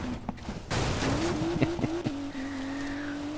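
A car engine in the Need for Speed Payback racing game revs and whines through a drift, with a rising and falling engine note and a thin tire squeal layered on top.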